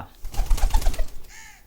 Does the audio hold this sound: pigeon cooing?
yes